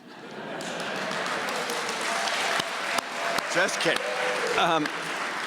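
Applause swells from a lecture-hall audience and carries on steadily, with a few sharp knocks and a brief spoken quip over the clapping.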